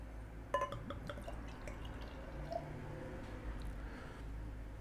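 Thornbridge Crackendale pale ale poured into a glass, a faint, quiet trickle with small drips and clinks, a soft fizz following near the end.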